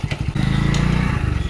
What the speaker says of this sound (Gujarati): અત્યારે મારા અંકલ ચલાવે છે બાઇક.